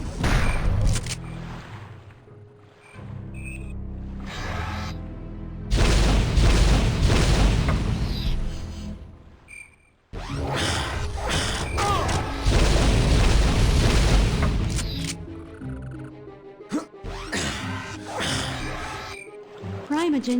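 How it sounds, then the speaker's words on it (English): Grenade launcher blasts in Pavlov VR, loud booming explosions arriving in bursts with gunfire and game effects between them and talk mixed in. "grenade launcher."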